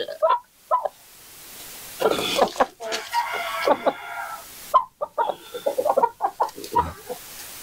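Chickens cluck and squawk close by in repeated bursts, with a rooster-like call among them and short pauses between the calls.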